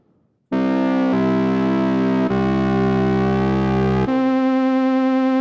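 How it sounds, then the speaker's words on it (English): A loud, harmonically rich synthesizer tone holds steadily, shifting pitch in a few abrupt steps, with a slow wavering quality like a siren. "we'll hear the vibrato, I hope."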